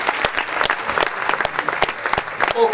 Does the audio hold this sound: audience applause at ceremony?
yes